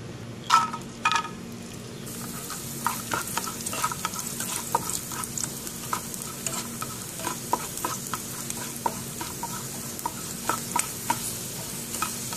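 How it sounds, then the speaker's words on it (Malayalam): Cashews and raisins fry in hot ghee in a pan, giving a soft steady sizzle with light scattered crackles and spoon stirring clicks, preceded by a couple of sharper clinks at the start. "ഇതിലേക്ക് ഇനി ക്യാഷും റൈസിൻസും ചേർക്കാം"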